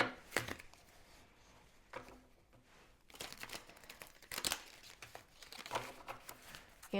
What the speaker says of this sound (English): I'm going to do one shuffle.